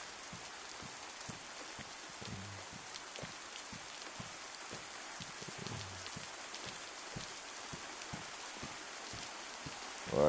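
Steady rain falling in the video game DayZ, a soft continuous hiss with scattered patters of drops on surfaces, fairly quiet and uninterrupted, with a few faint knocks underneath.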